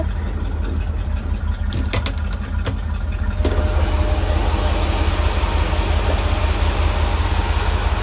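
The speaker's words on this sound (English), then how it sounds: "Beautiful V8 engine." A 1966 Ford Econoline pickup's V8 idles with side pipes, a steady low rumble close by; a few light clicks sound early on before the idle grows fuller and louder midway.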